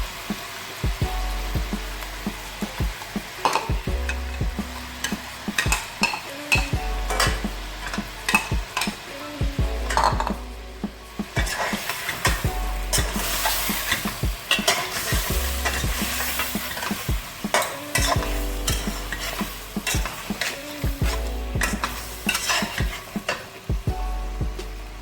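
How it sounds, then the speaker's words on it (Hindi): Chicken karahi fries and is stirred over high heat, a constant loud sizzle broken by repeated scraping and clanking strokes of a spoon in the pan, close up with no talk. "तकरीबन 15 मिनट तेज़ आंच पे इसको अच्छी तरह से भूनना है।"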